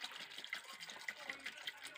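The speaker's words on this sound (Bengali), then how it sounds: "এবারে আমি ওপর থেকে ঠান্ডা জল দিয়ে দিচ্ছি।" Cold water poured from above over freshly boiled eggs in a kitchen pot, a steady faint splashing and trickling with small bright drips, low in level and continuous throughout.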